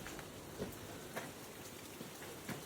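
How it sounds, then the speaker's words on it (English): Steady rain falls on a hiking trail of the Appalachian Trail, a soft, even hiss with occasional louder drops and patters standing out, no voices. "it's been raining the whole way up, guys. Still raining."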